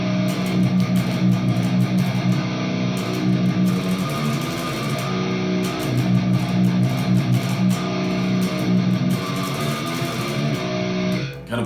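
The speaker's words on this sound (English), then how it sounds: "I'm playing this on the 7 string" A death-metal riff on a seven-string electric guitar, heavily distorted and played loud and dense, with fast chugging palm-muted patterns and brief stops, alone with no talking.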